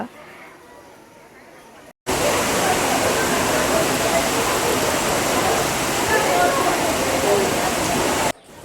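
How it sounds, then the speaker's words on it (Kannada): The Nandini river rushes past at Kateel temple in Mangaluru as a loud, continuous roar of flowing water that starts abruptly after a quieter stretch and cuts off near the end. "ಇವಾಗ ನೋಡಿ ನಾನು ಎಲ್ಲ ಕಡೆಯಿಂದ ನಿಮಗೆ ತೋರಿಸ್ತೇನೆ ನಂದಿನಿ ನದಿ ಹೇಗೆ ಹರಿತಾ ಇದೆ ಅಂತೇಳಿ"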